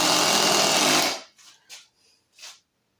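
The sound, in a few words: Milwaukee 18V Fuel Surge impact driver driving deck screws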